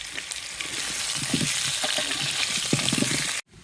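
Thick-cut potato chunks for chicken biryani sizzle steadily in hot oil, a dense close crackle with occasional stirring knocks, continuous and loud until it cuts off abruptly near the end; no talking.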